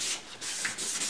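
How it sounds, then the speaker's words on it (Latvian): Wet sanding a car headlight lens by hand with 600-grit sandpaper gives a steady, close rasping rub with short back-and-forth strokes, heard alone. "Saslapinam un vienmērīgi visu noslīpējam."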